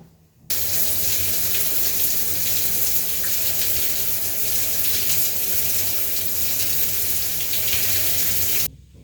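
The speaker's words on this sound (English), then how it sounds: "I just washed the dye out of my hair" Tap water runs steadily into a sink while hair dye is rinsed out, a continuous close splashing flow that starts abruptly and stops near the end, with no talking.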